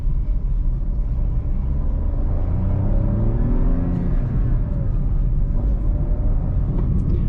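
A 2025 Maruti Suzuki Swift accelerates gently on a highway, its engine note rising under a heavy, constant low road and wind rumble heard from inside the cabin.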